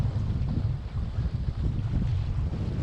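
A sailboat turns up into the wind to coast onto a harbor mooring, heard as steady low wind buffeting and water rush with no talk.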